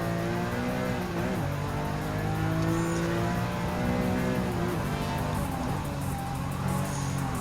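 Race car engine in Gran Turismo 7 on the Monza circuit, a continuous loud droning whine that shifts pitch through the turns, with no talk over it.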